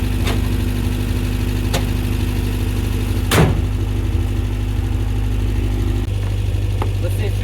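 A 1979 Subaru car engine idles steadily with a low, even rumble, close and constant, with a brief knock or clunk midway.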